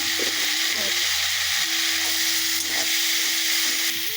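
Coriander and cumin sizzle steadily in hot oil in a pan for a shrimp, potato and pointed gourd curry, a dense continuous frying hiss with faint utensil clinks, no talking.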